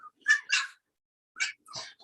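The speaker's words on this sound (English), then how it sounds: "you're hearing all that noise, that's because I got the cutest little puppies in the world" Little puppies yip and whimper in short, high bursts, two quick calls, a pause, then two more, close and fairly quiet.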